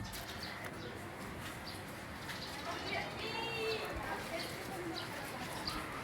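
Pigeons coo softly at a distance under steady outdoor background noise, with a person speaking nearby.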